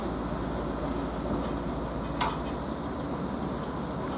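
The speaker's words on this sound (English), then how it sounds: "this train is just now departing, which has been stationed here" A Felixstowe North to Doncaster container train pulls out of Derby Road station with a steady, moderately distant rolling rumble and a faint metallic clink partway through.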